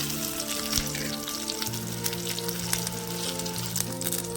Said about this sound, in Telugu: పచ్చిమిర్చి కచ్చా కాకుండా బాగా వేగాలండి.